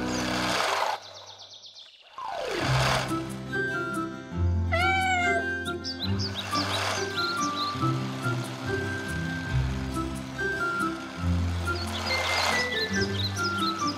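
A cartoon kitten gives a few short meows over a cheerful musical score with a bright, busy background.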